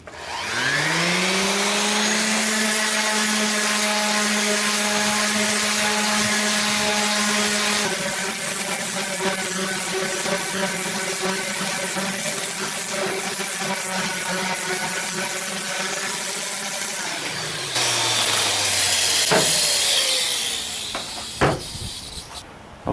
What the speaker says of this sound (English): let's get this sanded again